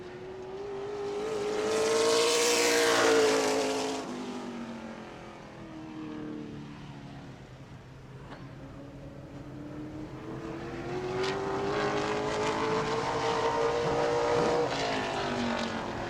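Modified race car lapping New Smyrna Speedway in qualifying, its engine note rising loud as it sweeps past, fading down the straight, then swelling again on the next pass.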